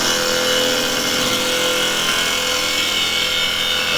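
A 1-inch Spowl gouge cuts a small live edge ash bowl spinning on a wood lathe, producing a loud, steady, unbroken rushing scrape close by with no voices.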